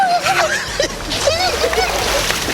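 Water splashes and sloshes in a cold swimming pool as a person jumps in, close and loud, with excited voices shouting and talking over the splashing.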